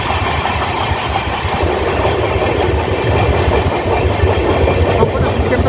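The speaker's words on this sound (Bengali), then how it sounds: "পাশ দিয়ে লোকাল ট্রেন ওভারটেক হচ্ছে।" A local train overtakes alongside the Howrah–Rampurhat Sahid Express, giving a steady, loud rumble of wheels and carriages with faint clickety-clack, continuous throughout with no talk.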